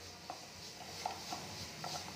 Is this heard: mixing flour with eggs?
yes